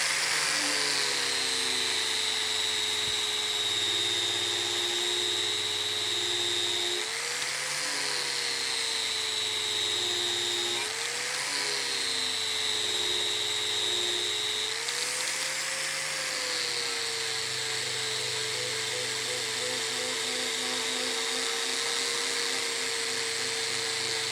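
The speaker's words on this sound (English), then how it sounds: "We want this on full speed of the grinder to give it a really good finish." A grinder at full speed drives a Norton Rapid Blend conditioning pad across stainless steel, giving a continuous high-pitched whine that dips and rises slightly in pitch as pressure shifts, close and steady throughout.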